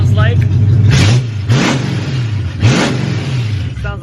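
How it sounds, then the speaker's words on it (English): A 1969 Ford Mustang with a 302 V8 sits on a dyno, its engine loud and close. It gives three sharp rev blips that rise and fall over a rumbling idle. "Revs of how the car sounds like."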